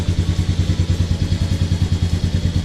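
A Honda TRX90 ATV engine idles after a carburetor cleaning, with a steady, rapid, loping putter and light mechanical clatter, close and continuous with no talk.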